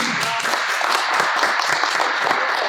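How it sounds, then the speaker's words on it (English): A crowd gives a round of applause at a self-discovery talk, continuous close clapping from many people held at a steady loudness for the whole stretch. "Can we give her a round of applause?"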